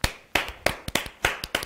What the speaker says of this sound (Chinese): 除了鼓掌，我还能说什么呢？